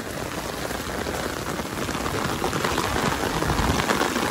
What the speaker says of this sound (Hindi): माशाल्लाह से कितनी तेज बारिश हो रही